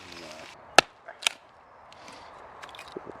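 Sweet chestnut firewood splits at a woodland winter camp with two sharp, close cracks a moment apart, then quiet crackling and faint rustles.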